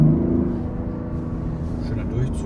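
Mazda CX-60 with the 3.3-litre six-cylinder diesel accelerating from about 50, heard from inside as a steady, fairly loud low engine drone with a rising hum.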